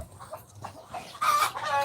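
A hen on a small farm gives a short burst of close clucking, with a sharper squawk near the end, over quiet background noise and no talk.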